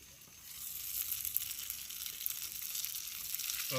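Korean mandu dumplings frying in a pan outdoors, a steady soft sizzle with faint crackling pops, heard alone at low volume.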